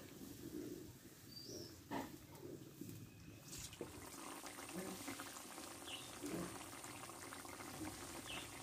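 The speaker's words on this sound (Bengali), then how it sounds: "দেখো আমার তরকারিটা ফুটে উঠেছে।" Bitter gourd curry bubbles in a pan with a faint, steady simmering crackle, and soft occasional clinks and background sounds throughout.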